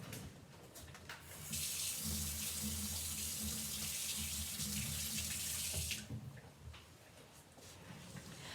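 Tap water runs steadily into a sink as a brush is rinsed out during alcohol ink crafting, a broad rushing stream lasting several seconds before cutting off, with quieter handling sounds around it.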